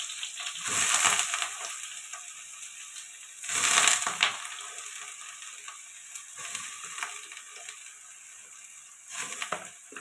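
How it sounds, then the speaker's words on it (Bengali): Soybean chunks fry in oil in a pan, producing a steady high sizzle with louder crackling, scraping bursts near the start and again around the middle, fairly close and free of talk. "সয়াবিনটা ভেজে নেবো ভালো করে"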